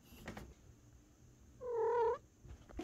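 A lazy house cat makes a short, close, tonal purring trill lasting about half a second amid quiet room noise.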